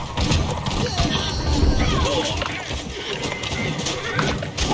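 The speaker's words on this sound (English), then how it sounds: "Oh, my horse got killed." A horse neighing as it is killed during a battle in the video game Conqueror's Blade, a whinny amid clattering hooves and combat noise, with someone talking over it.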